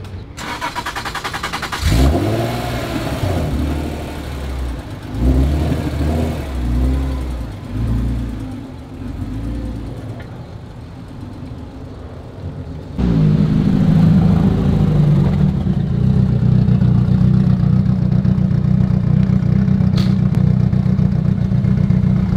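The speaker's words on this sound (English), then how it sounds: "it's gonna be a lot of just cars driving by, car noises" Cars roll into the 2023 Wekfest San Jose car show, engines revving in bursts at close range, then one settles into a loud, steady rumble.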